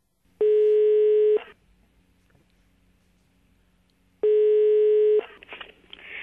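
Telephone call tones on a line during a prank call: two loud, steady tone bursts of about a second each, separated by a long quiet gap, with faint line noise and a bit of voice after the second.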